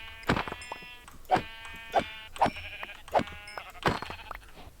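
Sheep in the Minecraft video game bleating near a village: five or six short, nasal bleats spaced about a second apart, clear and fairly close, with no talking.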